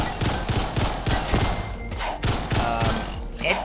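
Rapid bursts of gunfire from a weapon in the Ragdoll Universe video game, sharp clustered shots that come in quick repeating groups, loud and close, with no voices.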